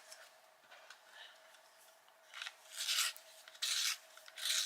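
A colored pencil in spring green being sharpened, giving irregular scraping bursts that grow louder and more sustained toward the end, close and alone.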